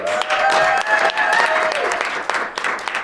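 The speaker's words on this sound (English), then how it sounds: "So one final applause for our fine contestants." Dense audience applause, loud and continuous, with a voice speaking over the clapping.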